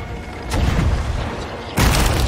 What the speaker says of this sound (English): Getting hit hard with legendary fucking cannons.